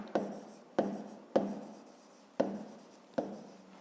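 A pen writes a math answer on paper in five short, distinct scratchy strokes at a quiet, close range, each fading quickly with pauses between them.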